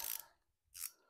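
A torque wrench set to 25 clicks twice, sharp and close, while tightening crankshaft bolts on a 200 cubic inch six-cylinder Ford engine. The clicks sit in a quiet workshop.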